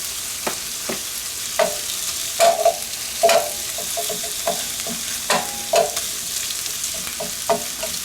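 Breakfast skillet ingredients sizzle steadily in a hot pan, broken by repeated scraping stirs and clacks of a utensil, loud and close with no talk.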